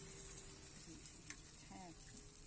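Rice batter for soru chakli pitha sizzles steadily as it is poured into a hot pan, a faint continuous frying hiss with a few small clinks, close by and without talk.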